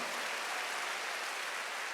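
A church congregation at a Wednesday worship service clapping together, a dense, even wash of hand claps that holds steady and moderately loud for a brief stretch, with no voices.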